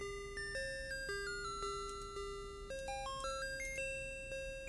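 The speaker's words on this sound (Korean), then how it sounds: "와, 이거 우리 학교 종소리 똑같네." A school bell chime rings in a Korean school-themed horror video game, a clear stepped electronic melody of bright tones playing steadily on its own at moderate volume.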